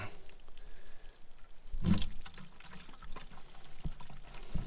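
Gear oil mixed with water pours from the open winch drain plug of a 1950 Cat D4-7U dozer, a steady close trickle and splash that surges briefly in the middle, with no talking.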